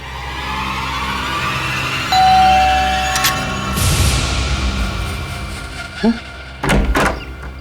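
An electronic doorbell rings, then after a pause a door is opened with a couple of solid close thunks near the end, all over a steady low room hum.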